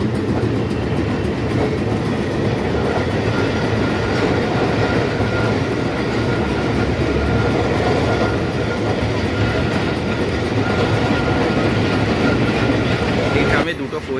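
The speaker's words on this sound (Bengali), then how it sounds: "এই ট্রামে দুটো কোচ আছে, আমি বসে আছি একদম শেষের কোচের শেষ প্রান্তে" A two-coach Kolkata tram rolls along its rails on the Tollygunge to Ballygunge route, heard from inside the last coach as a steady, loud rumble with rhythmic clickety-clack, continuous throughout.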